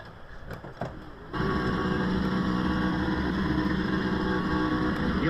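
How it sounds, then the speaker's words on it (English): Race car at a circuit event doing a burnout after crossing the finish line, a low-fuel car: a sudden jump to a loud, sustained engine roar with rich harmonic drone held steady to the end, close to the microphone. "Save enough for a burnout, Corey."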